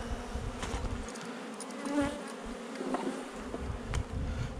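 Honey bees buzz steadily around a hive, a dense continuous hum with individual insects droning past close by.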